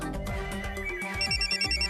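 A telephone ringtone plays a repeating electronic melody, fairly quiet and steady, with no voices over it.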